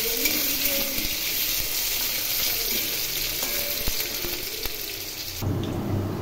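Potatoes fry in a little oil with spices for a Bengali jackfruit and prawn curry, giving a loud, continuous sizzle broken by a few utensil clicks and stirring scrapes before it cuts off abruptly near the end.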